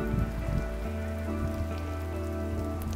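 Steady rain patters onto surfaces outdoors in a continuous, even hiss with a low rumble underneath, moderately quiet and with no voices.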